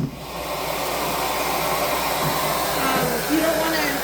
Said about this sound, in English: so I'm just going to run my vacuum along here, like carefully.